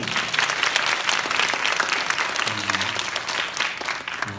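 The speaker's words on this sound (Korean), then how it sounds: "우리 한번 축복하고 격려하는 박수 한번 쳐주세요" A congregation at a Friday university chapel service applauds to bless and encourage student performers, a thick, sustained burst of clapping from many hands, with a brief tonal voice or instrument surfacing near the end.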